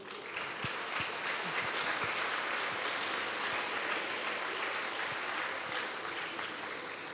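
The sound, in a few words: applause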